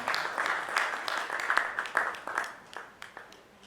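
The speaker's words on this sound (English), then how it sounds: "let the applause continue" Audience applause at a procurement leaders summit, a steady wash of many hands clapping that swells and then gradually thins out over a few seconds, heard from a distance in a large room.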